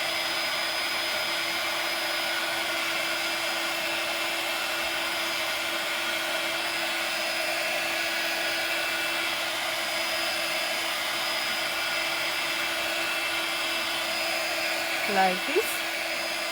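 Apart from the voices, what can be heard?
hair dryer drying a clay coffee mug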